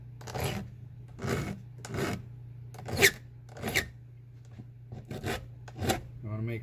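A flat file on a bar-mounted Granberg G106B guide rasps across the rakers of a chainsaw chain, with about eight short, crisp strokes coming at a steady pace with brief pauses between them, close and fairly loud over a faint hum.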